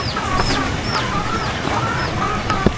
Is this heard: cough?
no